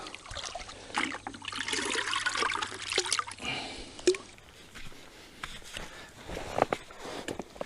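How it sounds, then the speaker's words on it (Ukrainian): Water is scooped up and trickles and splashes back, close by, with faint dribbling continuing after the main scoop. "Отже, зараз наберу водички."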